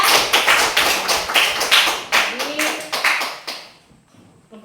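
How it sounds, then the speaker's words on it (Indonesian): A classroom of students claps for a student group after its presentation, a run of sharp, rhythmic hand claps for about four seconds before stopping, with a brief voice at the end. "silakan tepuk tangan untuk kelompok 2"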